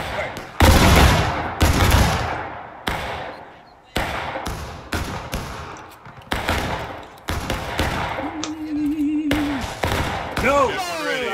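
Musket volleys crack out in War of Rights, a Civil War battle game, with several loud, sharp bursts of massed gunfire spaced over the clip, shouted voices between and over them, and a brief tonal whistle near the end.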